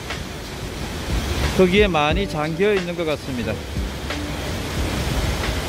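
Jaein Waterfall, about 18 m high, drops into a gorge pool ringed by columnar basalt cliffs. Its steady broadband rush fills the whole stretch while someone talks over it partway through.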